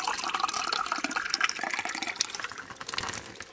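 Gravity-fed creek water running from a black pipe into an outdoor sink, a continuous splashing, gurgling stream with small irregular drips, close and moderately loud, no speech.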